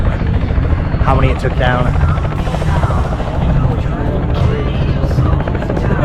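A helicopter at an airshow flies with a loud, steady rotor and engine roar that fills the whole recording. People talk briefly over the noise.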